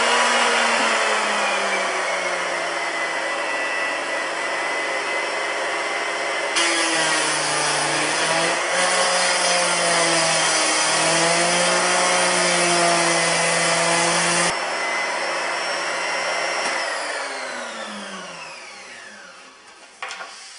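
A power tool bit cutting through plywood on a workshop desk build, a loud steady high-pitched whine that holds for about twenty seconds, dips in pitch under load, then winds down at the end, with no talking.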